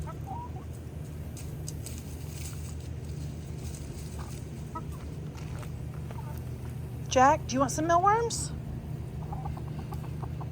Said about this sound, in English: all the chickens are eating them